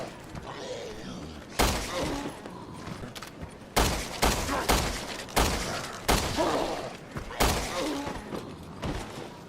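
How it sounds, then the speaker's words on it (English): Machine pistol fire in Resident Evil: Revelations 2, shot at an afflicted enemy in several sharp bursts of loud, close reports separated by short gaps, with no talking. "pretty basic machine pistol right there. I'm gonna test this on an afflicted"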